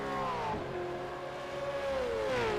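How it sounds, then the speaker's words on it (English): V8 Supercar race car engines in the iRacing racing game roar steadily, one engine note falling then holding as it runs down a straight, moderately loud and without talk. "could you hear the engines then when I had the headphones on the microphone?"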